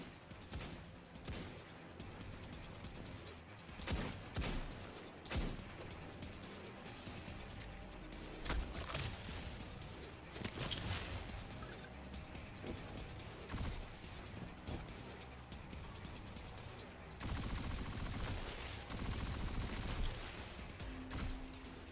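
Bursts of gunfire in the shooter game Destiny 2, scattered shots and rapid volleys with mechanical clatter amid battle noise, moderately loud throughout.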